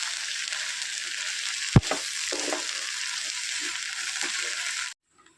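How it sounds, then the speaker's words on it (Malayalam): Cooked green gram (cherupayar) mixed with coconut for a Kerala thoran hisses and sizzles in a pan. A sharp clank of the spoon comes early, soft scraping stirs follow, and then the sound cuts off abruptly. "നന്നായിട്ട് ഇളക്കി യോജിപ്പിക്കുക."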